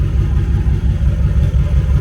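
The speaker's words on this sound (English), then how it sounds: "the engine running, you can hear it, and there's no leaks" A BMW engine fitted with remote-mounted coolers runs at a steady idle, a close, loud, low rumble that holds constant with no other sounds.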